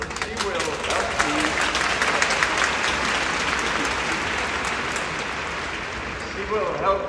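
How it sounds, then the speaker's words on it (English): Enormous audience applause at a concert in Sofia, a thick continuous roar of clapping from a large crowd, with voices faintly heard beneath it. "Give her an enormous applause."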